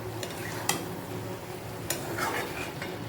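A spoon stirs soybean and potato posto with green chillies in a pan, a soft scraping and gentle sizzle broken by a couple of sharp metallic clinks, close and fairly quiet with no talk.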